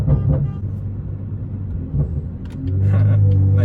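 A BMW M car with a fix for exhaust drone sends out a deep, low exhaust rumble that stays steady at first, then thickens into a louder, sustained drone in the last second as the engine pulls. No one speaks.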